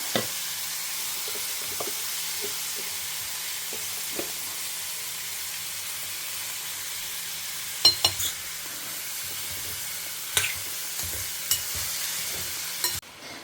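Snake gourd and grated coconut sauté in a pan with a soft steady sizzle, broken by occasional spoon scrapes and clinks as the mix is stirred, close and fairly quiet with no talk.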